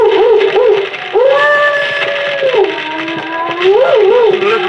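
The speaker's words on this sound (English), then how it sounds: "Listen to that dog. He's in an ugly temper." A dog howls loudly during the season's first thunderstorm in an old Sherlock Holmes radio drama. Its long wavering howls rise and fall, with a short break in the middle.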